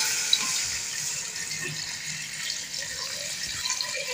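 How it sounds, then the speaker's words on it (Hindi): Water is poured into a pot of frying chicken, making a continuous hissing splash that stays at an even level, close and moderately loud, with no talk. "तो आप इसमें डालेंगे पानी, जिसमें कि हमारा चिकन है"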